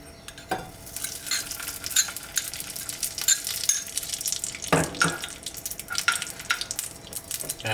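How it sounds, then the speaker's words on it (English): Ghee heats in a pan on medium-low heat, giving a soft, steady sizzle with light stirring scrapes and occasional sharper crackles, fairly faint and close with no talking. "The pan on medium low heat, we're going to put our ghee in."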